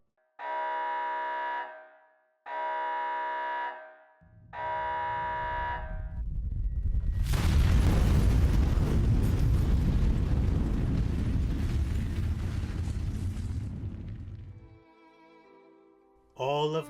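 A detonation set off by a button press in a story: three short beeping tones, then a long, loud rumbling explosion that swells and roars for several seconds before dying away into a faint tail.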